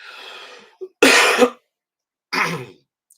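Two loud, raspy coughs from a person ill for days burst out close to the listener with a pause between them, preceded by a softer throaty rasp.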